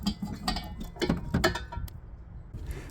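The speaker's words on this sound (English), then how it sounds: "on the tank you will be using, ensure the valve is off and disconnect the fitting." A propane hose fitting is unscrewed from an RV tank, the fitting for a Coleman RoadTrip portable grill, giving a quick run of close metallic clicks and ratcheting ticks, then a quieter stretch.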